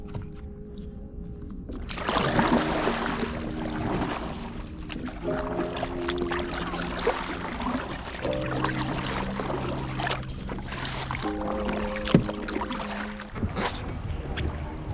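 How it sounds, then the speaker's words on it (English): A fishing kayak being paddled at sea off Eastbourne beach, with steady water splashing and sloshing against the hull throughout, over faint tonal music in the background. "I've paddled back pretty much to where I started this morning"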